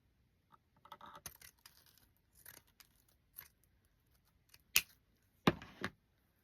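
Snips of scissors cutting ribbon, several short separate clicks and cuts spaced across the moment, fairly close and quiet, with two sharper snaps near the end and no talking.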